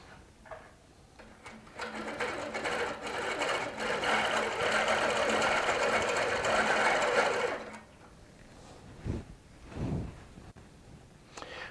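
A Baby Lock quilting sewing machine with a couching foot stitches cording in one steady, fast run lasting several seconds, then stops, leaving a few soft handling knocks afterward.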